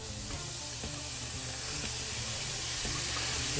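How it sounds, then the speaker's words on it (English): Vegetables sautéing in a dry, preheated cast iron skillet over a low flame, a steady, even hiss and sizzle with faint scraping ticks, close and continuous with no talk. "Now we're going to saute those off and remove the rest of the moisture."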